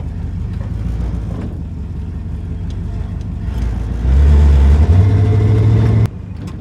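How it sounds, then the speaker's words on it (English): A 1969 Ford Mustang Mach 1 with an exhaust leak runs loud and close, its engine rumbling steadily, then revving higher for a couple of seconds before settling back. "Exhaust leak is not gone. It did not get better. It actually sounds like it got worse."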